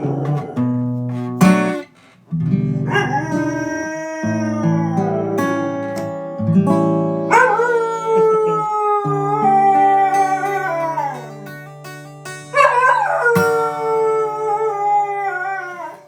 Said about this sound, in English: That was a good singing dog.